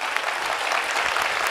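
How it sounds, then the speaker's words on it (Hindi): A crowd at a spiritual gathering applauds the volunteers, a dense, steady burst of many hands clapping together, loud and continuous with no voices. "तो एक जोरदार ताली उनके लिए"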